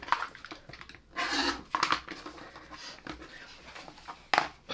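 Quilt fabric for pineapple blocks trimmed with a rotary cutter against a ruler, giving a few short rasping, rubbing strokes close by with brief pauses between them.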